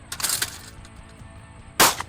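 Gunshots at a shooting outing: a cluster of sharp cracking reports early on, then a single loud, close shot near the end, with no talking.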